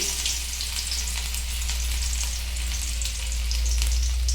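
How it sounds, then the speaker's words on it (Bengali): Chopped ginger fries in hot oil in a wok for a mixed moong and masoor dal, making a steady, close crackling sizzle that holds evenly throughout with no voices. "আমি প্রথমে গড়াইয়ে তেল গরম করে নিয়েছি এরপরে একটু আদা কুচি দিয়ে দিলাম"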